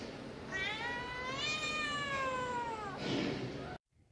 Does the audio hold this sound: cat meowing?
yes